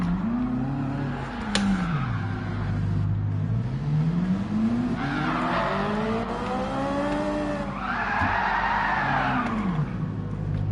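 Car in Gran Turismo 7 doing handbrake donuts, engine revving in rising and falling sweeps with long squealing tire skids, loud and continuous, no one talking.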